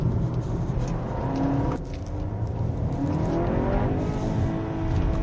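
A BMW M car's engine revs hard toward redline in S mode with the DCT holding gear, a loud continuous engine roar with rising harmonics and a brief dip near the two-second mark.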